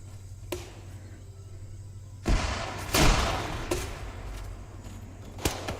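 Frag grenade blast and gunfire in the Arma III military game, a sharp burst followed by a loud, longer rumbling explosion and a few distant single shots over a steady low background hum.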